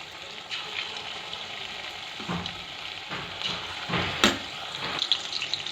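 Chicken pakoras deep-frying in hot oil for homemade chilli chicken, a continuous bubbling sizzle with occasional louder crackles and stirring clinks, moderately quiet and close.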